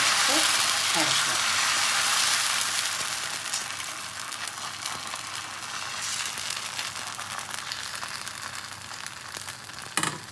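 Maida dosa batter frying in an iron pan gives a steady, moderately soft hiss and sizzle that eases slightly over time, with a few faint clinks near the end.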